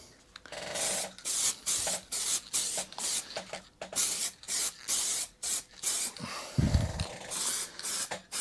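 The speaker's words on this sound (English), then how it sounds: "Now all you've got to do with this is literally just a very, very fine mist coat over the entire machine" A fine mist coat of 2K petrol-resistant lacquer sprayed over an entire machine with black and blue parts, heard as a rapid series of short, hissing spray bursts separated by brief pauses, close and fairly even.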